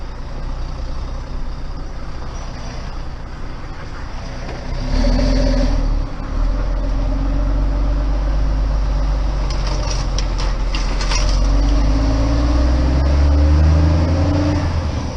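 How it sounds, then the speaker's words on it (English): A loaded tanker truck pulls away on a narrow country road, its diesel engine droning low and steady, rising in pitch through the gears as it shifts up from second to third to fourth, with a brief hiss partway through. "now we pull off in second gear now that we're loaded it, straight up into third, then into fourth"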